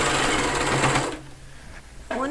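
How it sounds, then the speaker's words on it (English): Sewing machine running steadily at close range for about a second while back stitching a dimensional piece, then stopping; a voice briefly begins at the end. "And I'm going to back stitch."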